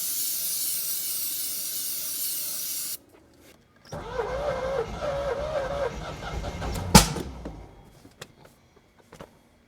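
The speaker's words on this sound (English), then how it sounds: "So it is trying to start with starting fluid." A 1986 Corvette C4 engine, just fitted with a new fuel pump, cranks on starting fluid: a loud hissing spray burst comes first, then a few seconds of close, laboring starter cranking that ends in one sharp pop before it falls quiet.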